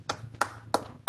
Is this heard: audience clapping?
yes